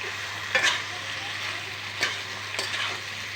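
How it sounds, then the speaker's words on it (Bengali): A spoon stirring vegetable curry with ginger paste in a pan over a soft sizzle, with three distinct scraping strokes against the pan under a constant low hum. "এটি আবার সবজির সাথে আমি মিশিয়ে নেব।"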